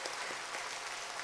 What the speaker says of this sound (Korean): 우리 격려의 박수 한번 보냈으면 좋겠습니다